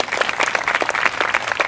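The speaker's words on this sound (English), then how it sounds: "I'd like to give you a round of applause." An audience applauds at a presentation, a dense, fairly close burst of many hands clapping briefly.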